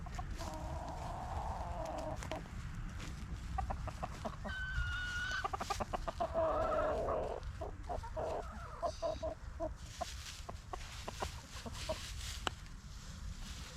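Several chickens, including a rooster, cluck and murmur close by in a chicken yard, with scattered scratching and pecking sounds over a steady outdoor background.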